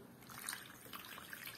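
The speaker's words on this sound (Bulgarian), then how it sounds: "даже може и още малко водичка да налеем" Water trickles and dribbles into a baking dish of stuffed Bulgarian peppers, a faint, steady pour with light splashing throughout.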